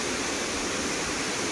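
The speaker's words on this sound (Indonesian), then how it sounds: "air terjun Irenggolo" Irenggolo waterfall in Kediri, a dense, steady roar of falling water, broadband and unbroken, loud and close with no other sounds on top.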